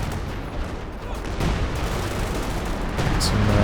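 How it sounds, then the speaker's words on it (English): Artillery fire in Company of Heroes 2, a dense, continuous rumble of distant booms and gunfire layered into a loud battle wash that swells slightly toward the end, no talk. "Some artillery coming down."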